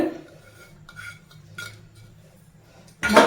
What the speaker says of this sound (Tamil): நல்லா பீட் பண்ணணுங்க